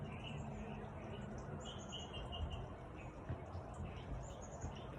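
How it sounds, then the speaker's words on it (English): Birds chirp and tweet outdoors in scattered high calls, fairly faint, over a low background rumble of ambient noise. "Listen to those birds."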